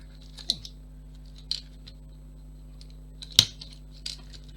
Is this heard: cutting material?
yes